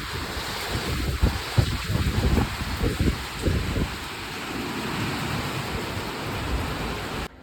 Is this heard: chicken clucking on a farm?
no